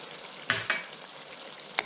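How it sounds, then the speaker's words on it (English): Sauce thickening in a pan with sesame oil added, a steady close sizzle running under three quick stirring scrapes, two together early and one near the end. "we're going to cook this until the sauce is slightly thickened, so we're going to add some sesame oil."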